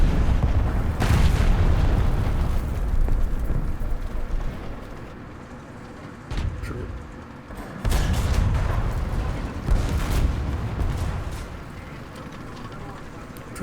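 Artillery explosions in the War Thunder game, heavy booming blasts landing in bursts with rumbling low decay, several strong impacts separated by brief quieter gaps, fairly close and loud.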